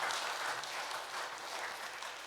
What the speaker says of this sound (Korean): 우리 환영의 박수 보내주시기 바랍니다.